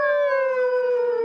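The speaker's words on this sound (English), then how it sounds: "I've just had three complaints about howling wolves." A single sustained, steady wolf howl, loud and close, holding one smooth pitch that sags slightly before cutting off abruptly, with no other sound around it.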